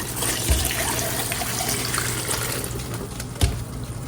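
Water pours steadily into a large canning pot, a continuous splashing trickle with a couple of soft knocks.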